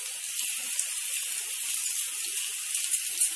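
Methi saga bara fritters sizzling in shallow oil on a dosa tawa, a steady, close, bright crackling hiss with small popping bursts throughout.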